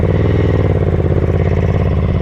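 A Ducati 900SS bevel-drive twin idles close and loud with a lumpy, even pulse, the throttle blipped only slightly so the engine note barely rises.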